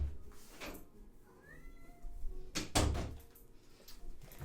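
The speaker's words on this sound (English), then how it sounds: "Ooh, my cat's here." A house cat gives a single short, rising meow, faint and close, between loud clunks like a cupboard door opening and closing indoors.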